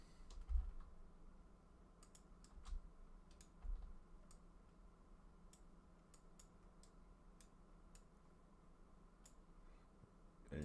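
Computer keyboard modifier keys are pressed in sparse, irregular clicks, soft and close against a quiet room hum, with no talking.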